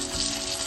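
Tomatoes frying in a pan with green chilli for matar paneer, a steady close hiss of sizzling oil filling the whole short moment without pause.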